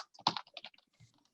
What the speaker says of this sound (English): I'm just typing that into the chat there.